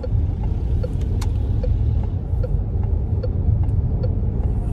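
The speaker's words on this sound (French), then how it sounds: "Je sais pas c'est qui transporte le camion, j'en ai pris plein la tronche." Heavy road rumble from a truck rolling past, with a low steady drone and a few faint ticks and clicks on top, fairly loud and continuous.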